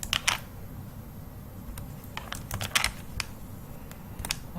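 Typing on a computer keyboard: a quick, irregular run of light key clicks, close and fairly soft, over a low steady background hum.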